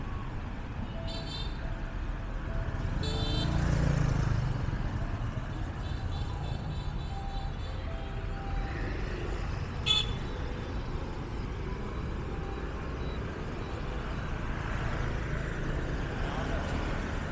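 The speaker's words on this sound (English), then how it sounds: "I am very apprehensive about visiting Ho Chi Minh because this level of traffic is more than enough" Busy street traffic in Da Nang, Vietnam: a constant rumble of motorbikes and cars with several short horn toots scattered throughout, one honk standing out nearby amid the steady roar.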